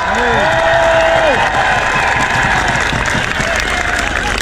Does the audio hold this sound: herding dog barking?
no